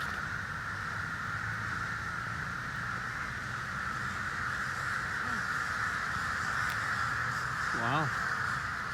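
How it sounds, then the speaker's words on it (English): Crows caw harshly and repeatedly in a Bangkok park known as Crow Park, loud and nearby under steady ambient noise, with people talking quietly as they walk. "Seems like the crows know it too."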